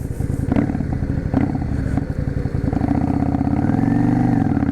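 A Yamaha V Star 650 Classic motorcycle pulling away, its engine rumbling loud and close with a throbbing, uneven beat that rises in pitch toward the end as it accelerates.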